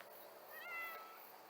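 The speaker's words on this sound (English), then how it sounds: "I've got some cats that like to tromp around in the woods." A single cat meows outdoors near woods, one faint, drawn-out call rising and falling against quiet background hiss.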